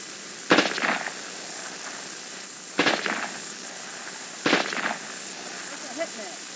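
Three sharp, loud gunshot bursts, each with a short crackling tail, come a couple of seconds apart over a steady background hiss.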